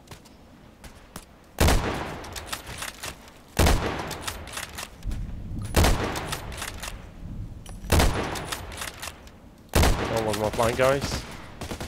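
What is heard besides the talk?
gunfire in a video game shooting mission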